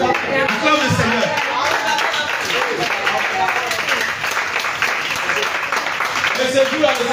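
A church congregation claps and applauds in praise, steady dense clapping filling the room with voices mixed in throughout.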